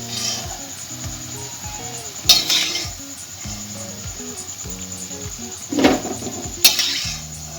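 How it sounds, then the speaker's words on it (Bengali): Potato pakoras deep frying in hot oil, a steady bubbling hiss under soft music with a few clinks of a metal utensil against the pan. "এভাবে আমি আরো কটা পকোড়া ভেজে নেব"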